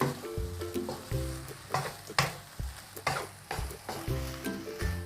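Macaroni with fresh shrimp and tomato sauce is stir-fried over high heat, a close hissing sizzle broken by regular rhythmic scoops and scrapes of the spatula against the pan, with a low steady hum underneath.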